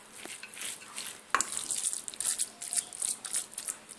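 A cutlet mixture of eggplant, black pepper and salt is stirred in a bowl, making soft, wet rhythmic squelches and light scraping, close and fairly quiet.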